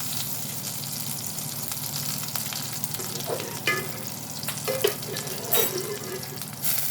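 Onions sizzle and fry steadily in a pan for an Assamese thali, a continuous broadband crackle with occasional louder pops and stirring scrapes, fairly close, with no talking.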